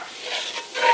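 Quiet scraping of a utensil stirring flour into caramelized onions in a pan for gravy, two soft passes over a faint sizzle, with no voices.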